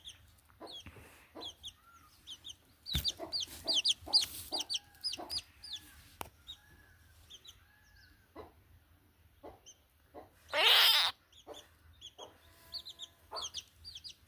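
Young chicks, one of them blind, peep in rapid, high, thin bursts that come and go, with quiet gaps and a brief noisy rustle near the end.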